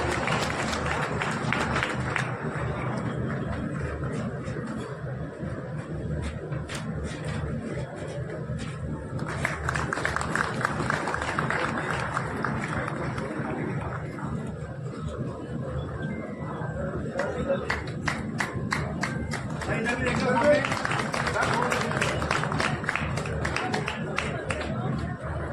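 Audience applause and crowd noise at a foundation stone laying ceremony for a health complex in Sujangarh, sustained clapping swelling and easing in waves for about twenty-five seconds, with murmured voices underneath.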